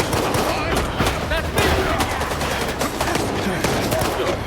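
Dense, continuous gunfire from a firefight in Stalker 2, rattling shots close together with voices talking over the shooting.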